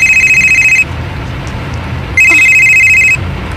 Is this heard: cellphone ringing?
yes